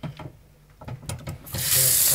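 Running water from a tap gushes loudly as something is rinsed, starting after a few soft rubbing and handling noises.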